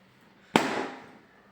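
A single balloon bursts in one sharp, loud pop during a party challenge game, followed by a short fading tail, with quiet before it.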